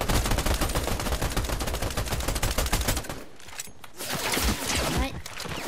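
Video game gunfire from a shooter match: a dense, rapid automatic burst hammers for about three seconds, then gives way to a quieter, scattered stretch with a softer flurry of shots, while voice chat runs alongside.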